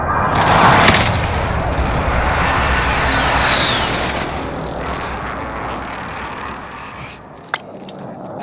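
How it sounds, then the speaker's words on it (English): Enemy precision airstrike in Call of Duty: Modern Warfare: a loud aircraft roar sweeps overhead, followed by rumbling blasts and a few sharp bangs near the end. "Enemy precision airstrike."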